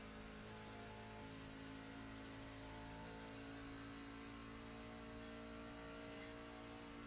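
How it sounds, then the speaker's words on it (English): Racing truck engine in an oval truck racing game, a steady droning hum as the driver stays off the throttle, held at a constant level throughout with no talk. "He's off the throttle for a long time."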